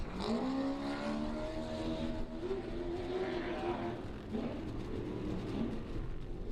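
Off-road race trucks running bumper to bumper at a desert off-road race, engines revving and shifting in a fairly faint, wavering roar, with some voices underneath.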